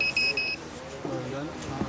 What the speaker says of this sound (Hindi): 30 सेंटीमीटर के फासले में कोई चीज़ आ जाती है तो ये अलार्म हो जाता है।